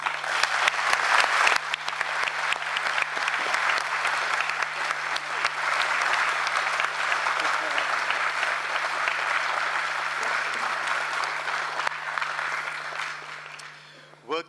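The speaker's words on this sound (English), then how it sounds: "I would like that we all give her a warm round of applause." Warm, sustained applause from a crowd at a World Heritage Committee plenary session, honoring the rapporteur. Steady clapping fills the room for about thirteen seconds before tapering off, with a steady electrical hum underneath.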